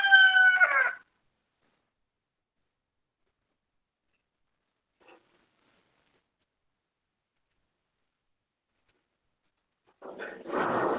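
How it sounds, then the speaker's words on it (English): Roosters crowing near a balcony, one brief call at the very start and another rising one at the end, separated by long near-silence with a single faint tick in the middle. "these roosters"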